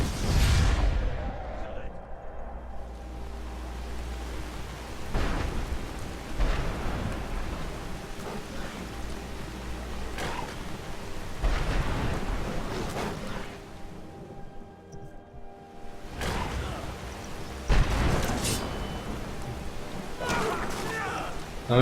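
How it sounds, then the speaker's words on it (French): A thunderstorm in the video game Skyrim: dense, steady rain hisses throughout while deep thunder rumbles and cracks roll in at intervals. "Ah, c'est orage, ouais, donc c'est bien ça"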